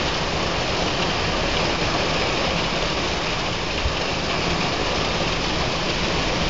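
Heavy rain pours steadily during a storm, a dense, loud, continuous roar of water with no break across the whole stretch.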